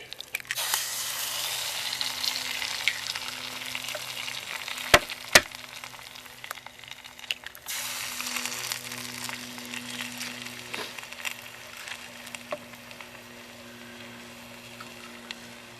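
An egg drops into a pan of limp bacon over an alcohol stove, giving a close, steady frying sizzle with a couple of sharp clinks partway through and faint low hum beneath.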